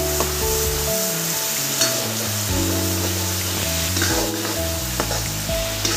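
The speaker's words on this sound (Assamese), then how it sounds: "আৰু এতিয়া লৰাই ল'ম আৰু পানীৰ স্বাদটো যোৱালৈকে ভাজি থাকিম" Garlic, ginger and turmeric paste frying in hot oil in a pan, a steady close sizzle with occasional stirring scrapes under a low musical tone.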